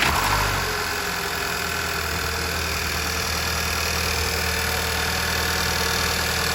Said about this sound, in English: we're going to start it and listen for any weird sounds